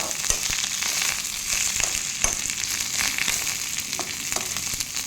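Steady oily sizzling and crackling of curry leaves roasting lightly in a hot pan, with occasional sharper pops and stirring scrapes, close and continuous.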